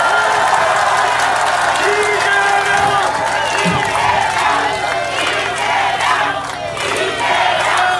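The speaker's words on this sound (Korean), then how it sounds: "여러분 큰 박수 한번 부탁드리겠습니다." A political rally crowd at a by-election campaign event for the Gangseo district head in Seoul claps and cheers loudly, with shouts and whoops over the continuous applause and a voice on loudspeaker.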